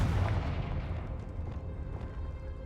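Confringo curse blast in Hogwarts Legacy, a booming explosive burst that fades into a rumbling low tail over a couple of seconds, heard alone without talk.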